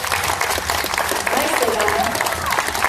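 Audience clapping at a museum glassblowing demonstration, a dense, steady burst of applause throughout, with a voice speaking over it.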